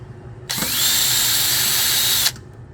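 A power drill boring a pilot hole during an air conditioning install on a 1968 Chevrolet C10 truck, one steady loud whine lasting almost two seconds with an abrupt start and stop, close up with no talking.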